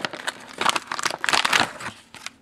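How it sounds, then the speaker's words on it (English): Opening the foil pouch of a 1992 cold weather ration beef stew package: close, loud bursts of crinkling and tearing foil in irregular rapid clusters over a couple of seconds, with no talking. "Let's open up the foil pouch really well."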